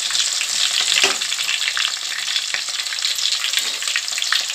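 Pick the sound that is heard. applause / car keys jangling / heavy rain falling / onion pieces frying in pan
onion pieces frying in pan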